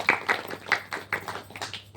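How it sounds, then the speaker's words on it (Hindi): Scattered audience clapping at a wedding ceremony, sharp hand claps in an uneven rhythm, close and fairly loud, lasting only a couple of seconds before thinning out. "तालियां बजा दीजिए।"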